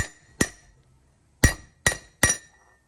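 Hammer blows on a metal plate seating a front wheel bearing on a Toyota 100 Series Land Cruiser, four sharp ringing metallic strikes, one then a pause and three in quicker succession, close and loud.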